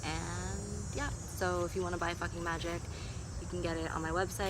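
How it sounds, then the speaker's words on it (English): A steady high insect drone runs throughout, the shrill constant buzz of cicadas, beneath a person speaking close by. "You can hear the cicadas singing and maybe some planes"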